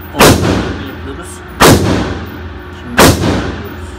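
Three loud, sharp gunshots from a Walther P-38 pistol at an indoor shooting range, spaced about one and a half seconds apart. Each close report is followed by a short reverberant tail from the enclosed room.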